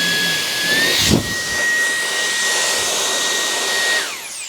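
A MECO ELEVERDE electric air duster, a four-speed blower rated up to 180,000 RPM, runs with a loud high-pitched whine and rushing air, a short thump near the start, then the whine winds down at the end.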